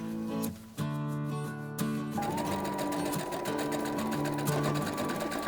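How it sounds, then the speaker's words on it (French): Sewing machine stitching a fabric bag for storing face masks, running in a steady close-up whirring stretch with brief pauses and speed changes, no talk. "je vais aller coudre ici"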